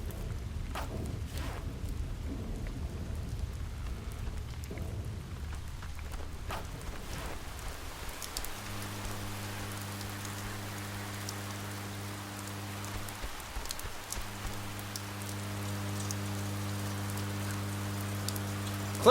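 Steady rainfall in the video game Oxenfree, a constant hiss of rain on surfaces running the whole time, joined midway by a low sustained musical drone with a brief dropout.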